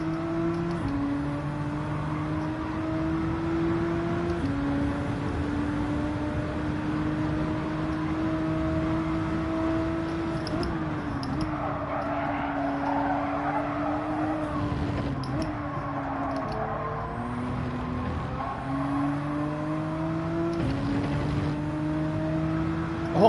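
Race car engine in Gran Turismo 7, a steady loud drone that rises and falls as the throttle is worked, with occasional shifts in pitch and brief dips, continuous throughout with no talking.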